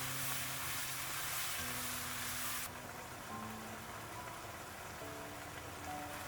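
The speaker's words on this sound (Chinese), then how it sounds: "开中火慢慢的煮，让土豆鸡蛋充分的入味" Diced potatoes and eggs simmer in sauce in a pan over medium heat, giving a steady, close sizzling hiss that drops slightly in brightness partway through and carries on without voices.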